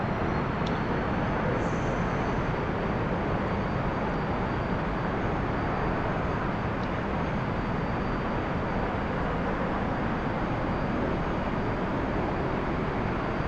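A T-45 jet engine run at full throttle in the DCS flight simulator gives a steady, loud, unbroken broadband roar that holds level throughout with no voices.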